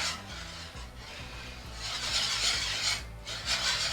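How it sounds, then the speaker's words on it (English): A spatula scrapes the bottom of a pan to lift browned lamb fond while cooking a lamb vindaloo: a continuous close rasping, rubbing scrape that swells louder in the second half, with brief pauses between strokes. "Giving the bottom a nice scrape as well, just to get all that lovely fond off the bottom"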